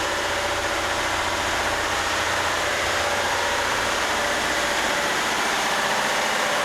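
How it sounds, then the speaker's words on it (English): Large Ruston diesel engines run inside a tall, spacious ship engine room aboard an 81-metre ice-class explorer yacht, a loud, steady, dense mechanical roar that fills the space without letup and with no voices. "Underneath we can see the Ruston Engines."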